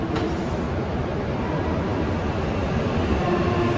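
A Hayabusa Shinkansen bullet train pulls out of a station in Japan, uncoupling from a Komachi train; a loud, steady low rumble and rolling roar continues throughout.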